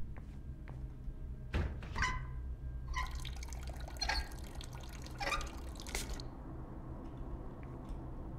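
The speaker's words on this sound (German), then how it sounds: "Da tropft es jetzt auf einmal." Water drips in the horror video game The Nightfall, a series of sharp, irregular plinks and splashes over a low ambient hum, some close and some softer.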